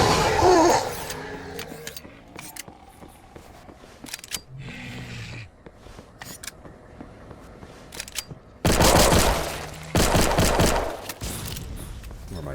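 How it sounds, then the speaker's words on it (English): RPG rocket launcher blasts and explosions ring out in the video game Those Who Remain. Two heavy, loud booms about a second apart follow a quieter stretch of scattered smaller clanks and thuds. "Takes 2, sometimes 3 shots with the RPG to kill them. It's a literal anti-tank warhead"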